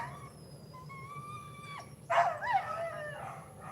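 A neighbor's dog lets out a long rising howl, then yips and barks in a short burst, fairly loud over a low background hum with no talking.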